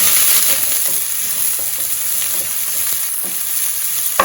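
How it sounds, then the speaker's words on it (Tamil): Onion, green chilies and chili powder sauté in a pan for a ridge gourd masala, giving a loud, steady bright sizzle throughout with occasional soft stirring taps and no speech. "இதை கொஞ்சம் வதக்கிக்கலாம்."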